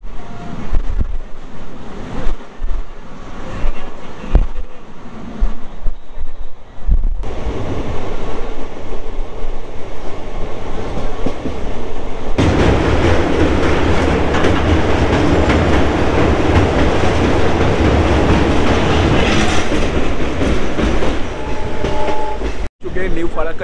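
The Tebhaga Express running on the rails between Kolkata and Malda, a loud continuous rumble with rhythmic clickety-clack and wind noise, swelling louder midway through, with no talk.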